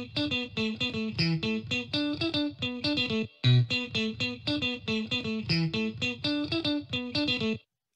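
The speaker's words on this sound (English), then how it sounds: "let's listen to this guitar part by itself." A clean electric guitar plays a steady, rhythmic picked part on its own, with a brief pause midway before the pattern resumes.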